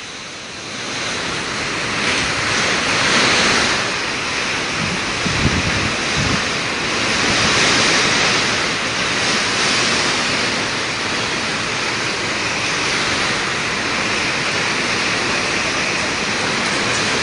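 Strong typhoon winds from Typhoon No. 9 roar over Quang Ngai as a continuous loud rushing noise that surges and eases in broad gusts, with a brief low thump midway.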